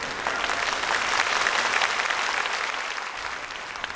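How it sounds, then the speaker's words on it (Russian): Concert audience applause in a hall, a dense, steady clapping that swells and then eases slightly over a few seconds, with no voices. "аплодируем, аплодируем,"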